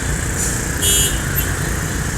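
A Laju Prima bus rolls past on a busy road at night among heavy trucks, a loud steady engine roar with a brief horn-like toot partway through.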